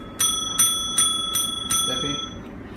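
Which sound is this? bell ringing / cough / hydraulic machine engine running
bell ringing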